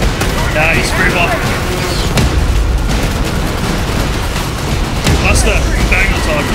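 Artillery explosions in the video game Helldivers 2, heavy booming blasts and rumbling impacts that roll on continuously and loudly, with players' voices talking over the barrage.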